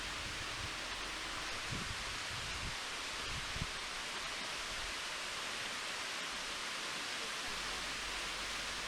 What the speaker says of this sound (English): here we are approaching the first waterfall. This is Winter Falls.